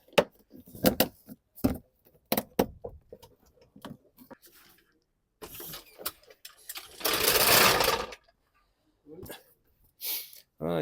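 A glow plug relay being bolted back into a 2019 Ford Kuga: close metallic clicks and rattles of a ratchet and fasteners in short bursts, with a longer rough burst of tool noise near the end.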